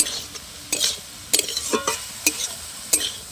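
Radish, potato and beans being stirred in a pan for a vegetarian spinach curry, with a series of sharp spatula scrapes and clinks against the pan over a faint sizzle, close and spaced irregularly.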